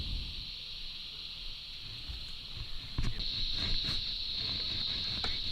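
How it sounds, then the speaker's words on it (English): Steady, loud high-pitched insect drone, cicadas buzzing continuously throughout while fishing for dusky flathead, swelling slightly partway, with a few faint knocks underneath. "You can hear the cicadas here, they were deafening."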